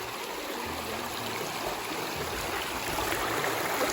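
A clear stream flows steadily nearby, water rushing and trickling in a dense, continuous wash with no voices.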